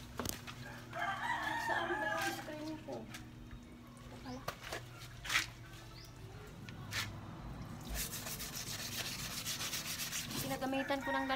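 A foot is scrubbed with a rough tool to remove hardened dirt, making repeated rasping rubbing strokes close by. A rooster crows and chickens cluck in the background, and a person talks intermittently.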